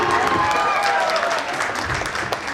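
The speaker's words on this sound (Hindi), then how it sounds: "एक बार जोरदार तालियां इन सारे फैमिली मेंबर्स के लिए" Guests at a sangeet wedding ceremony applaud the family members in a steady, dense wash of clapping from a crowd, fairly loud and continuous throughout.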